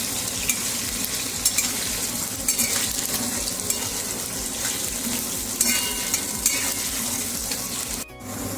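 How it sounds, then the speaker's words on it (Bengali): Diced potato cubes fry in hot oil for a vegetarian papad dalna, giving a steady close sizzle broken by occasional light scrapes and clinks of a spoon against the pan. "আলুটাকে একটু লাল লাল করে ভেজে নেব।"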